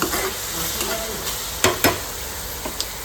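Onion and tomato fry in a hot pan with a steady soft sizzle, broken by a few sharp spatula knocks and scrapes close by.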